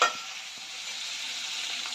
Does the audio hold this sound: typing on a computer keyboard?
no